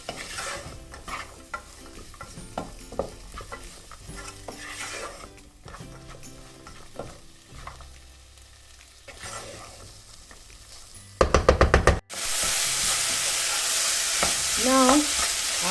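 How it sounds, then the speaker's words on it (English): Vegetables and meat stir-fried together in a pan, with soft sizzling under clinks and scrapes of stirring, then a burst of rapid clatter and a sudden loud, steady hiss. "So you stir fry and let it cook, and it's starting to cook now"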